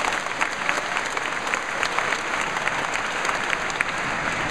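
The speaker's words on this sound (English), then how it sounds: "If you never wore a helmet, clap." An audience at a Henry Cho comedy show claps in a broad, sustained round of applause, with many hands blending into a steady roar and occasional sharper individual claps standing out.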